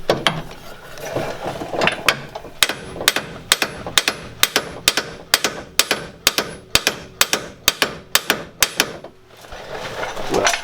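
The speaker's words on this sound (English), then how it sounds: "Big hammer there." A big hammer striking repeatedly to remove WRX wheel bearings, sharp metallic blows in a steady, evenly spaced rhythm, loud and close with no talk.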